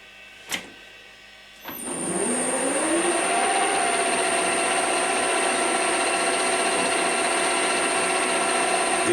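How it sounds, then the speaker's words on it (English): A lathe starts with a click and spins up into a steady whine with a high tonal hum, running continuously as a drill held in the tailstock bores into the workpiece. "this is peg drilling with the tailstock"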